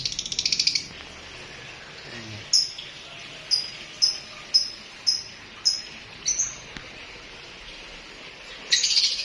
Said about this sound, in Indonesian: banyak sekali burung-burungnya ini